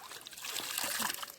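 Water splashes and sloshes in a flooded rice paddy in the Konkan during weeding, with light close splatters and trickles and a soft voice in the background.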